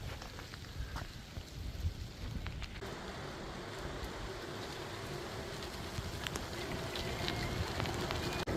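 Light rain falls during a bike ride on a rail trail, a faint continuous patter with scattered drop ticks over low rolling road and wind noise.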